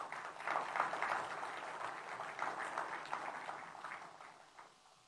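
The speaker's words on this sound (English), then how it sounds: "Let's give them a big applause." Applause from an audience welcoming company leaders at a China-Bangladesh business conference, a steady, somewhat distant wash of clapping that holds for about four seconds before fading.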